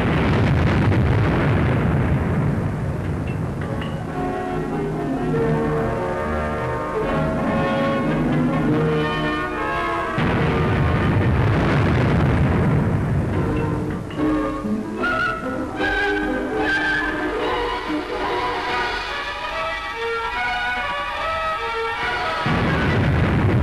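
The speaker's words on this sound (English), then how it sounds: "ruined buildings likely to collapse had to be demolished" Ruined buildings in Boulogne, France are brought down by demolition charges. Heavy, rumbling blasts roll on loud and continuous, swelling and fading in long waves, with no voices.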